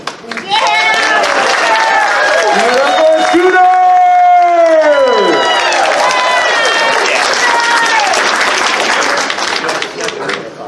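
A large audience at a fursuit dance competition claps and cheers loudly and continuously, with whoops and long rising and falling shouts over the sustained applause.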